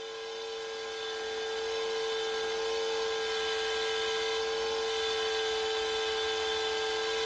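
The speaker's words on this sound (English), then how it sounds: "I immediately cut a groove in the timber for the slats using a router" A power router cuts a groove along square timber for shoe-rack slats, a steady high-pitched whine with a constant tone that holds level and loud throughout, with no speech.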